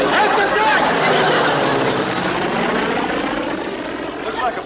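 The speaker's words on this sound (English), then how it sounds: "Looks like a plane from the cruiser" A propeller plane from a naval cruiser passes overhead, making a steady, loud engine drone that fills the whole stretch and fades slightly toward the end, with faint voices beneath it.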